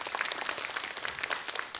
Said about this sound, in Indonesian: Beri tepuk tangan sekali lagi untuk Kak Dina.